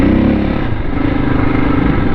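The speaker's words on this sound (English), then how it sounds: "I love this thumper sound" A 2002 KTM 640 enduro single-cylinder motorcycle engine thumps steadily and loudly up close, a continuous low, throbbing drone with no pauses and no talking.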